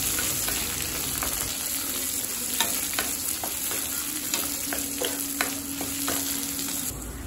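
Onions fry in a pan for onion tomato chutney, a continuous close sizzle broken by repeated spatula scrapes and stirs, steady and moderately quiet without speech.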